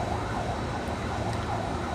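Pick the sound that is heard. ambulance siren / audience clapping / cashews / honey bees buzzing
ambulance siren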